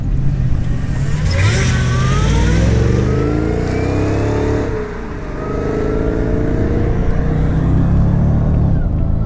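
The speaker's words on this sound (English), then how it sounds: "you hear that blower" The supercharged engine of a 615 hp RennTech-tuned Mercedes SL55 accelerates hard with a rising blower whine, dips briefly at a gear change, then climbs again, loud and close.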